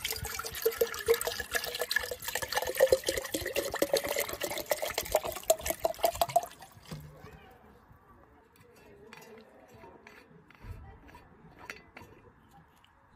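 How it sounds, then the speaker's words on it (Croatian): A litre of lukewarm water pours steadily into a container for a homemade hens' remedy, a close splashing stream for several seconds, followed by quiet glassy clinks and handling noises. "Uzmete 1 litru mlake vode."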